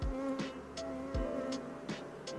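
Honey bees buzzing around an opened hive during a sourwood nectar flow in western North Carolina, a steady close insect drone with a few brief louder passes near the ear and low thumps from handling.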